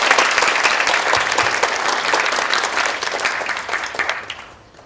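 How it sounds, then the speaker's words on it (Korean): An audience at a lecture hall talk gives a big round of applause, vigorous and sustained clapping that gradually tapers off and drops away at the end. "큰 박수 부탁드리겠습니다."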